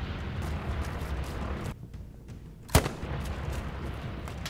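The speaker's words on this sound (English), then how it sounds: "He's firing at me." A single sharp Kar98 sniper rifle shot cracks out in a video game, loud and near, rising from a steady background rumble after a brief lull.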